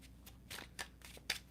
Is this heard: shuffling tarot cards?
yes